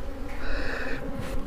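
Honeybees buzzing at an open hive during a beekeeper's inspection, a steady close drone with a brief higher whine in the middle and faint handling noises underneath.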